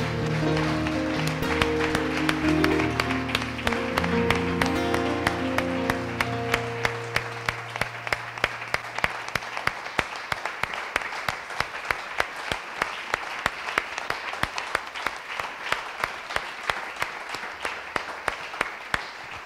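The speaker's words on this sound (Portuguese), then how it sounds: "E dê uma linda salva de palmas a Ele, igreja." A church congregation applauds at length during a worship service, many hands clapping loudly and steadily for about twenty seconds, with sustained musical tones sounding underneath in the first half before thinning to mostly clapping.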